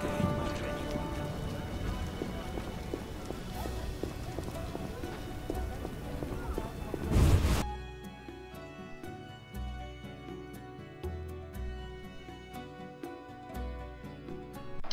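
Rain-like pattering in The Witcher video game, layered with rhythmic hoofbeats and game ambience, fairly quiet, with a sharp burst midway followed by sparser patter.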